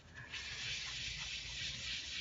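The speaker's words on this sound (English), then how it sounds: "my sanding motions going in one direction. So with this pad, I'm going to give tiny little swirl marks" Faint, continuous soft hiss of a sanding pad rubbing over a wood finish in tiny swirls, steady and even with no voices.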